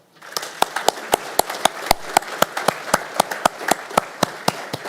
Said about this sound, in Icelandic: Já, gott klapp.